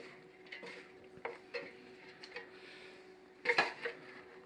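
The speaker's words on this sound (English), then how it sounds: "some cheese, stir it around. Stir it around nice and good." Cheese stirred into a Tex-Mex chicken and potato dish, with soft scraping and clinks of a utensil against the pot, several light knocks and a louder clatter near the end, no talking.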